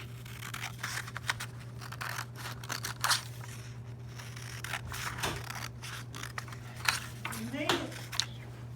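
Scissors snipping through folded paper while making a flap book, a series of quiet crisp cuts and rustles at irregular intervals against a steady background hum.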